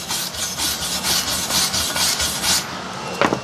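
A small wire brush scrubs a fresh weld from an AZZUNO 200 amp 4-in-1 welder, giving a loud, close, rhythmic rasping in repeated strokes, with a couple of knocks near the end.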